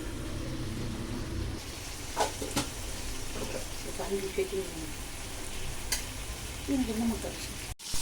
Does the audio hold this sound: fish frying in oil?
yes